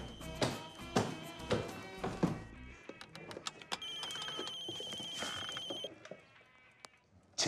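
A mobile phone rings with a steady electronic tone for about two seconds, following a run of sharp taps and knocks in an indoor comedy scene.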